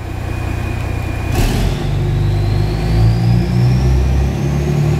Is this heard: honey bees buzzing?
no